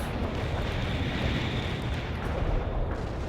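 An artillery barrage in World in Conflict, heard as a continuous loud roar of rumbling explosions blending into a dense, washing din without distinct separate blasts.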